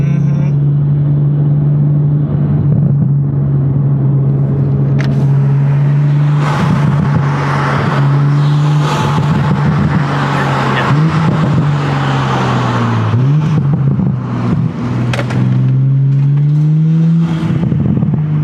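A Toyota Supra engine with an HKS carbon intake drones steadily and loudly with a rising rev near the end, while people talk over the rumble.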